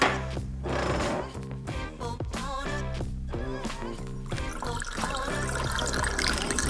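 Water and ingredients pour and trickle into a bottle for yeast water for sourdough, a continuous gurgling pour with bubbly glugs, fairly quiet and close, with some faint background noise.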